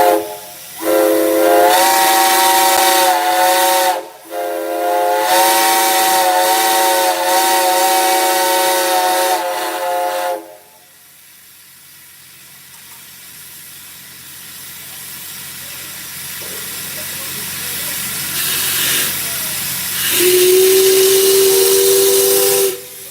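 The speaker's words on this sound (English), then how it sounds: "I got a little kid here who's gonna blow one of the whistles." Steam whistles blown at a Kentucky steam whistle event, two loud sustained chime-like blasts with a short break between, followed by a quieter hissing stretch and the start of another whistle tone.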